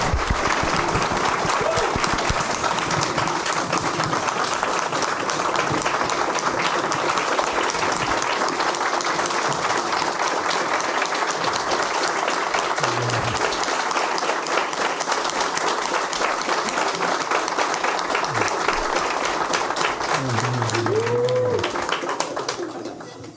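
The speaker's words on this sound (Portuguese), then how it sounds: "Por isso eu peço uma salva de palmas" Long, steady applause from an audience honoring a professor at an international comics conference, loud and continuous clapping that fades out near the end, with a brief voice heard just before it dies away.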